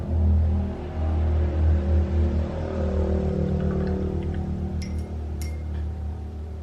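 Loud vehicles pass outside, a heavy low engine rumble that swells and fades steadily throughout, with a few faint ticks near the end.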